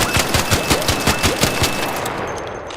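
Rapid hip-fire bursts from a Bettina rifle fitted with a compensator in a video game, a loud, steady string of sharp shots with short gaps, fading into a quieter tail near the end.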